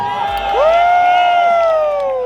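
A crowd at an anime convention in Delhi's Yashobhoomi IICC bursts into loud cheering, whooping and high whistles that swell and hold for about two seconds.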